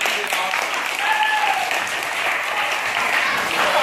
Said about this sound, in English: make sure you guys give them a very big round of applause again